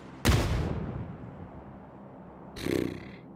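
A grenade goes off in the mobile shooter PUBG New State during a tournament match, one sharp, loud blast with a rumbling tail, followed about two seconds later by a second, duller burst.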